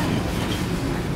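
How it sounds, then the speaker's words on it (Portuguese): Rumbling interior noise of a train riding back to the airport in New York, a dense continuous roar of wheels and carriage close by, with no talk. "Pegando o trem de volta para o aeroporto."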